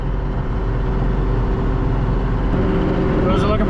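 Beaters of a manure spreader spinning, a steady low mechanical drone with a tractor engine rumble, loud and continuous, with a brief faint voice near the end.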